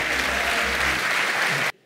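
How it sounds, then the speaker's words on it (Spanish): Audience applause at a live MBA show event, a dense sustained burst of clapping that fills the room and then cuts off abruptly near the end. "Un aplauso grande, Michelle Arévalo."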